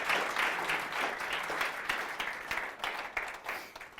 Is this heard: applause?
yes